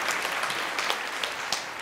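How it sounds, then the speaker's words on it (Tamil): A television debate forum audience claps in a steady, moderately distant wash of applause, evenly sustained and without voices. "ஒரு பலத்த கைத்தட்டு"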